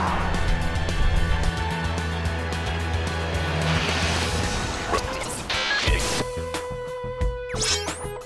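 A Mitsubishi Lancer Evo X runs hard on the Kari Motor Speedway circuit in Coimbatore, India, with a loud, sustained engine roar that shifts and fades near the end as other noises take over.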